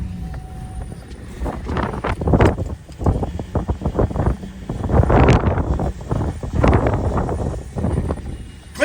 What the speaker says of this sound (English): it's windy again here in Nebraska